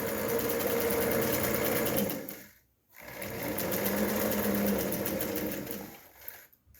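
A sewing machine runs a steady stitching line, a continuous close mechanical whir that pauses briefly, then resumes and slows to a stop with a few clicks, no talk over it.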